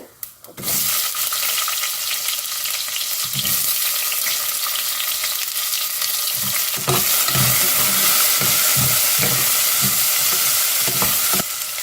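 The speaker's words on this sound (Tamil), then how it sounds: "ரெண்டு பெரிய வெங்காயம் நறுக்கி வச்சுருக்கோம் இல்லையா அதை போட்டுக்கிறேன் நல்லா பொரிஞ்சிருச்சு" A steady loud sizzle of onions frying in a pan, with occasional stirring scrapes and clinks throughout.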